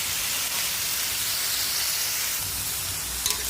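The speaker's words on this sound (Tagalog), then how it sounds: "Ilagay ko na ang broccoli." Cauliflower sizzles loudly in a hot pan for a simple home dish, a dense, constant hiss of frying that holds steady and close throughout.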